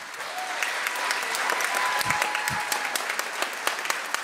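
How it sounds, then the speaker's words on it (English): Audience applause for graduating seniors at a middle and high school band concert, loud steady clapping from a crowd with a few sharper individual claps standing out and a couple of brief low thumps midway. "Can we get another round of applause for our seniors?"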